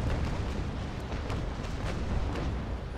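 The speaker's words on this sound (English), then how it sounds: "just waiting for my gun deck cannons to reload, which I think will spell his doom very quickly" Frigate gun deck cannons in the naval battle game Naval Action roar as a dense, continuous rumbling barrage, heavy and booming throughout with no clear gaps and no talking.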